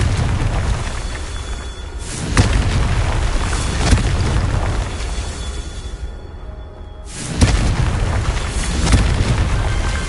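Confringo fire spell cast in the Hogwarts Legacy video game, booming fiery explosions with a whooshing burst, two loud blasts separated by a rumbling tail and a brief lull.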